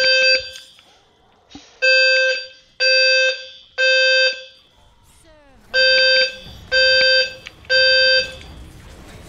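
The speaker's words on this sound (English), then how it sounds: "There's like a billion fake fire alarms here for some reason." A fire alarm goes off loudly and up close, sounding long piercing electronic tones in groups of three with short gaps between, while faint sounds shift in the background.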